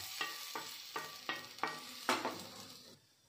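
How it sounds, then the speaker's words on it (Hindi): Chana dal dropped into a pan of frying potatoes while making Rajasthani-style sooji upma, giving a series of five or six sharp sizzling bursts over steady frying, with scraping stirs and no talk. "तो अब हम इसमें ये चना दाल डाल रहे हैं।"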